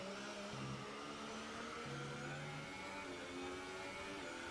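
Haas Formula 1 cars racing in F1 2018 at the Canadian Grand Prix, engines whining steadily at high pitch with shifting overlapping tones as two cars run close together, loud and continuous with no talk.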